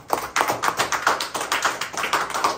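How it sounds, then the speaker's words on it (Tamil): Hands of a church audience clap in a steady rapid rhythm, close and loud, continuing throughout with no voices over it. "கைத்தட்டி ஆண்டவர் மகிமைப்படுத்துவார்"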